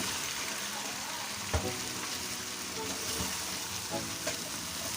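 Chicken and tinda (round gourd) curry sizzles steadily in a pan while it is stirred, with a few soft scraping knocks of the spoon against the metal.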